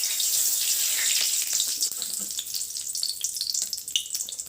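Leaves dropped into hot oil in a wok hiss and sizzle with a steady, bright crackle close by, gradually settling into uneven spitting pops.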